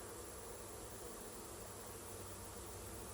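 Honey bees hum in a steady, even drone from an opened hive during a varroa mite check, a dense continuous buzz with no talking.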